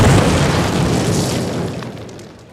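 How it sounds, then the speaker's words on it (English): A loud explosion from demolition charges blows apart a cinder block wall in the Call of Duty training mission, a heavy booming roar that slowly fades over a few seconds. "Place your explosives on the cinder block wall."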